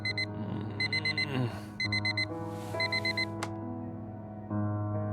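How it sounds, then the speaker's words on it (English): An alarm clock in the visual novel Fragments of Him beeps in rapid repeating bursts of four high tones, loud and insistent, over a sustained soft musical background. "The same alarm tone that Harry can sleep through."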